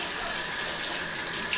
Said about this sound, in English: we kind of rinse around a little bit